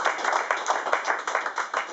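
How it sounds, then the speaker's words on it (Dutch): Steady applause from a crowd, dense rhythmic hand claps filling the whole stretch at a lively, even level. "Viola Holt, mag ik een applaus, dames en heren, voor Viola?"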